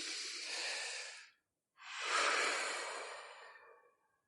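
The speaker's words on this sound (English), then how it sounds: "Take a deep breath." A slow, deep breath: a long, soft airy inhale, a brief pause, then a fuller, louder exhale that trails off gently, close to the microphone with no talking.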